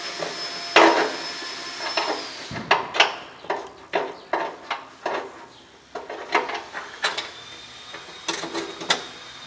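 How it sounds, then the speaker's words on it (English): A ratchet wrench clicks in a run of sharp metallic bursts as it works on a part of a Massey Ferguson 300 combine in a workshop, with uneven pauses between strokes. "That's the trouble sometimes with these ratchet wrenches."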